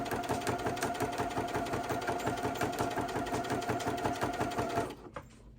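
A sewing machine stitches fabric for a door hanger, giving a fast, even, close mechanical rattle that runs steadily and then stops abruptly near the end.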